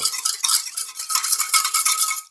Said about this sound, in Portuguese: E agora é só misturar tudo muito bem, principalmente para que o miso ele se dissolva